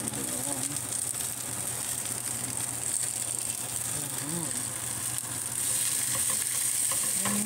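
Sea bass pan-frying with mixed herbs sizzles loudly and steadily in a pan, a close constant crackling hiss. Faint speech is heard underneath at moments.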